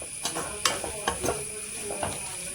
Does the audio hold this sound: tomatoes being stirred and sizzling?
yes